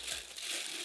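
A strong-smelling plastic bag holding Adidas Predator football boots crinkles briefly and softly, a short close rustle.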